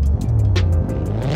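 Car engine in the CarX Drift 3 racing game, a steady droning engine note with shifting pitch and faint tire noise, loud and close with no talking.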